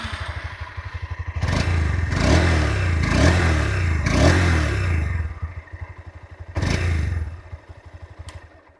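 A 2026 Honda Hornet 2.0 motorcycle engine starts and settles into a close, steady idle, then revs up in several throaty surges before falling back and blipping once more near the end.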